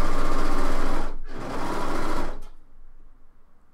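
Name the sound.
sewing machine stitching fabric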